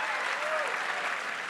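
Studio audience applause on a political talk show, a loud, dense burst of many hands clapping together that holds steady through a brief moment.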